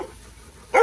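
A puppy in a house full of dogs gives a single short bark at the very end, loud and close after near-silence.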